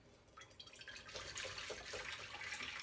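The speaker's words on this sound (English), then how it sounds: "And then I pour water in." Tap water pours into a mixing bowl holding a few drops of vegetable wash for rinsing bok choy, a soft trickle that swells into a fuller steady stream, fairly quiet and with no talking.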